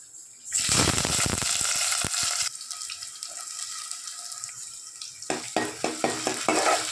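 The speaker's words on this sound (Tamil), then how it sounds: "இப்போ இதை நல்லா வதக்கிக்கிறேன்" Onions sizzle and crackle in hot oil, with stirring and scraping sounds, loud at first then settling into a steady frying hiss.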